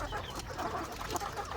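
A flock of chickens clucking softly in a coop, faint and scattered over a steady low background hum.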